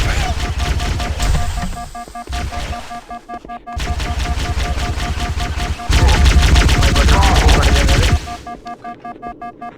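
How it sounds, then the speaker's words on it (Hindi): Continuous automatic gunfire in Halo: Combat Evolved, loud rattling bursts separated by brief pauses, with heavy booming impacts in the later bursts. "लगातार फायरिंग हो रही है।"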